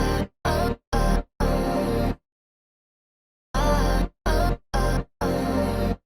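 A loud pad or chord sound chopped by a rhythmic gate into short on-off bursts, shaped by automated overdrive, reverb, pitch shifting and EQ; four stuttering blocks, a long silence, then four more blocks of the same choppy pattern.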